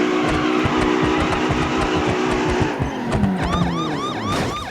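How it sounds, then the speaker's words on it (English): A Mercedes-Benz GT63 4-door used as a Russian police car in BeamNG.drive roars along at speed, engine loud and close, with a wailing siren rising near the end. "it's a Russian police car"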